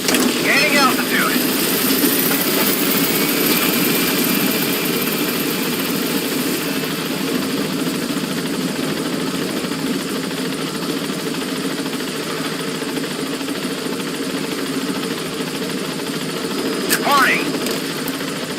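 A helicopter in Metal Gear Solid V drones steadily as it lifts off, a constant whirring engine hum with a faint radio voice speaking over it.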